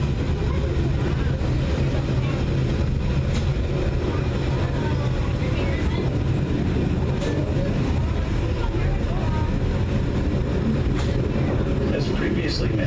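A narrow gauge zoo railroad train, with cars and locomotives about half standard size, rolls along its rails in a continuous close rumble, with faint voices mixed in.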